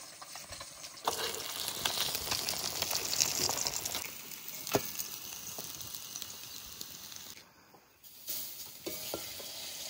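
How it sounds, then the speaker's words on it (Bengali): Silver carp fish frying in its own oil, which spits and crackles in a steady, close sizzle, with sharp pops scattered throughout and a brief lull near the end. "মাছ ভাজছি তো তেলগুলো পটপট করে ফুটছে।"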